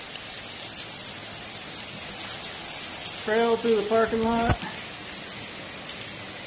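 Steady, heavy rain hisses throughout, with a person briefly speaking partway through.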